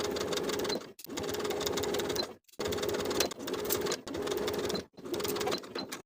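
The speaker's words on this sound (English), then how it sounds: "Baste your pleats in place along the top edge of the skirt from one side to the other." A sewing machine basting box pleats along the top edge of a skirt runs in four rapid, rattling bursts separated by short pauses, close and clear with no talk.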